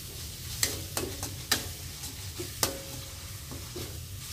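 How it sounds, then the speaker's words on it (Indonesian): Spice paste sautés in a pan while a spoon stirs it, a low sizzle broken by several sharp scraping taps, close and fairly quiet, with no voices. "Pertama-tama saya tumis bumbunya terlebih dahulu. Kita tumis sampai harum ya."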